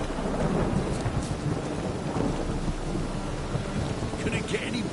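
Steady heavy rain with rolling thunder in The Witcher 3, a dense continuous downpour with low rumbles swelling and fading throughout, loud and close.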